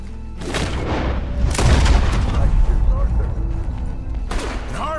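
Gunfire in the video game Red Dead Redemption 2, heavy booming shots in a night fight, loud and close, with a big blast near the middle under ongoing voices.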